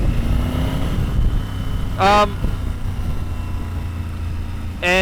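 A motorcycle is ridden on a winter day in British Columbia, a steady low engine rumble throughout, with two short tonal bursts rising above it.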